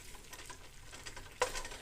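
Vanilla being mixed into a sticky rice krispie treat mixture in a pot, soft quiet stirring with a short, sharper scrape near the end, faint and close, with no speech.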